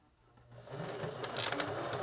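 A sewing machine stitches around the edge of a small fabric Christmas ornament, starting quietly and building into a close, steady mechanical whir.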